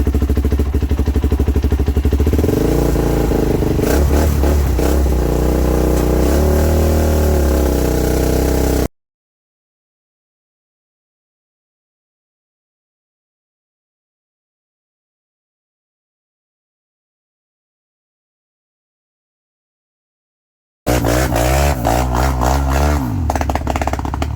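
A quad ATV engine revs hard with clattering, uneven bursts, then the sound cuts out to dead silence for about twelve seconds before loud rough revving returns, stumbling and bogging.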